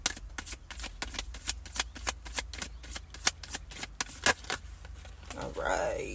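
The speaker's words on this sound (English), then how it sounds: "I'm going to choose 3 cards for you guys" Tarot cards are shuffled by hand in a rapid run of crisp riffling snaps, loud and close, ending in a brief soft slide as a card is drawn.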